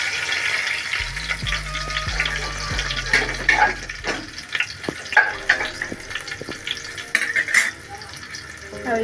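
Whole cumin, bay leaves and broken dried chillies sizzle steadily in hot oil in a kadai, a close crackling fry with scattered sharper pops and a faint low hum running underneath.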